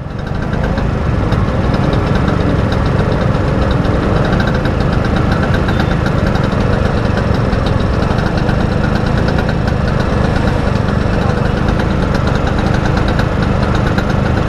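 A classic Vespa scooter engine runs steadily and loudly during a night ride, a continuous close, rough mechanical drone with no pauses.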